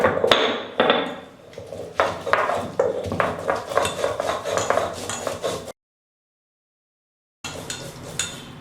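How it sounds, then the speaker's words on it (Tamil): Ginger, cinnamon, cloves, green chillies and garlic pounded together, heard as a series of sharp, close thuds and clinks in an irregular rhythm, broken by a short silent gap before the pounding resumes. "ரெண்டு பட்டை நாலு லவங்கம் ரெண்டு பச்சை மிளகாய் ஏழு எட்டு பல் பூண்டு இதை நல்லா இடிச்சுக்கலாம்"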